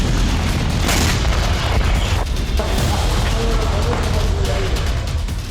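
Israeli bombing in Dahiya, Beirut, in news footage: loud, dense rumbling blasts and roaring debris fill the whole stretch continuously, with no clear gaps between impacts.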